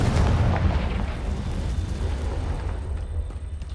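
A fiery spell blast in Hogwarts Legacy erupts as a loud, dense boom with a low rumbling roar that fades slowly across the few seconds, with no talking.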